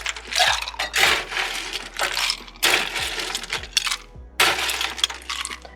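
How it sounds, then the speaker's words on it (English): Ice cubes poured into a cocktail shaker while mixing an Aviation cocktail, loud clattering bursts as the cubes tumble and clink against each other, in several distinct pours. "And so we're gonna fill this up with ice."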